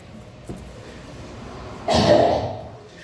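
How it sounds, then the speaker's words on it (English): A faint thump, then after a pause a single forceful cough bursts out, loud and harsh, fading over about a second. "You have to do the aggressive jump and cough, okay?"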